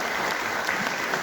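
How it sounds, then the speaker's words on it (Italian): Audience applause at a mountaineering club's centenary book presentation in Conegliano, a steady dense wash of clapping heard alone for a brief moment. "complimenti per un grande applauso"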